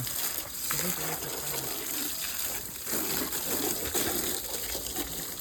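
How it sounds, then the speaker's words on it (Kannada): Water splashing over a motorbike during a wash with a freshly heated engine, a continuous close gushing hiss, with people talking throughout. "ಇಲ್ಲಿ ನನ್ನ ತಮ್ಮನೂ ಅದನ್ನೆಲ್ಲ ಬೈಕ್ ತೊಳಿತಿದ್ದಾರೆ ಇವಾಗ ನಾನು ತೊಳಿಬೇಕು"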